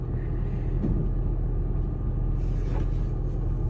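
A truck idles or rolls close by with a steady low rumble and engine drone. It stays loud and unbroken for the whole few seconds, with no voices over it.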